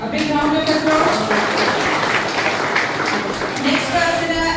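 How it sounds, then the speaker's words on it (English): An audience at an alumni reunion event at Maulana Azad College in Aurangabad applauds with a dense, continuous clatter of clapping, while an announcer speaks over it. "A big round of applause."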